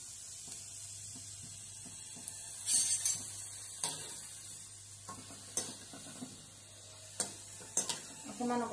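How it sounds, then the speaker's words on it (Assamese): Ghee sizzles gently in a kadai over low heat, a steady soft crackle with scattered scraping stirs and a few sharp utensil clicks, loudest briefly near the middle. "একদম ল কৰি দিব আৰু লাহে লাহেকে ভাজি থাকিব"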